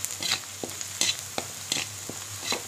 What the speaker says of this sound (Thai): ทอดเพื่อมันเหลืองๆนะครับ